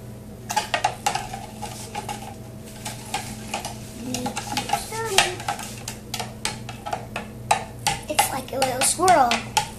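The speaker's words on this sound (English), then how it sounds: "You need to do it into one little swirl until all the sugar melts and makes it lemonade." Homemade lemonade with sugar and natural stevia being stirred in a container, a spoon clinking and scraping against the sides in quick repeated taps over steady background noise, with a voice briefly heard.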